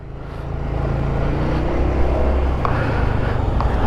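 Honda ADV350 scooter with a CVT transmission cruising at a steady speed, a continuous low engine drone and wind rush throughout with no talk.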